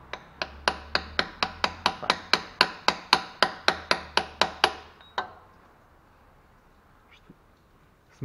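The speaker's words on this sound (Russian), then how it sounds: "Сейчас немножко-немножко молоточком его постучать." A small hammer taps a metal drive-shaft oil seal into the manual transmission of a 1993 Toyota Corolla EE100 in a steady run of about seventeen light, even strikes, then stops, leaving quiet room tone with a single stray knock.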